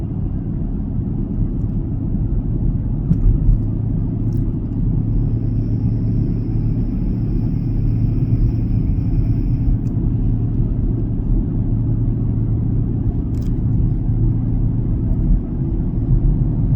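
Interior of a 2024 Chevrolet Camaro LT1 on the move: a steady, loud low rumble of road and engine noise fills the cabin, with a faint high whine and occasional small clicks.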